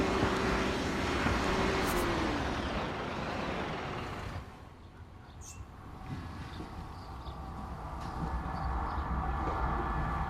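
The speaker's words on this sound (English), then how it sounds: "Oh, there's a train." A train rumbles past in the video game Construction Simulator, a loud, rolling mechanical roar with a brief high horn-like tone early on that dips midway and then swells back, no voices over it.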